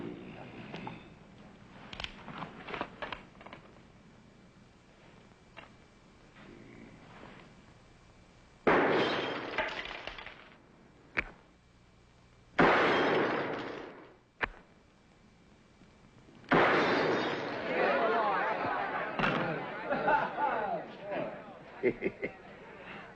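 Indoor gunshots at a target, sharp loud cracks in short bursts separated by pauses, with people talking in between.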